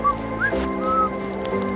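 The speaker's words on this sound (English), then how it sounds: "How about he whistles real good." A person whistling outdoors around a campfire, a few short, thin rising and gliding notes over a low steady background hum.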